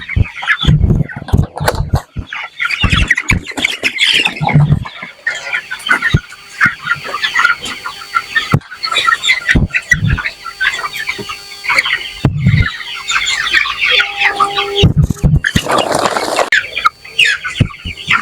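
Chickens in a poultry house cluck and squawk close by in irregular bursts, with short sharp calls, brief quiet gaps, and a louder flurry of cackling near the end.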